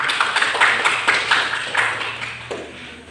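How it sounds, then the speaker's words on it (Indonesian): Classmates give a short round of applause for a student named Irma in a classroom, a loose burst of scattered claps at moderate volume that thins out after a few seconds. "Tepuk tangan dulu buat Irma."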